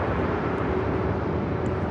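Jet airliner taking off from the north side runways at LAX, a steady broad roar heard from a distance, continuous and even with no talking.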